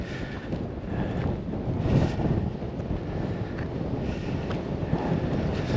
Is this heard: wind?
yes